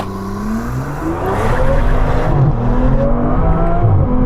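An Aston Martin V12 Vanquish on winter tyres launches hard from a standstill, its engine note climbing steadily through the gears, loud and close.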